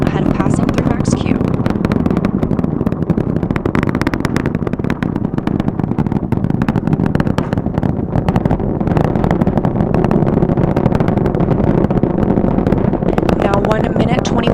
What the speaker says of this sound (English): The 4 core stage engines are throttling down ahead of passing through max Q.